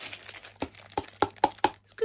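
Several sharp crackling crunches of a sturdy cardboard box being handled, spaced irregularly with brief quiet gaps, close and moderately loud.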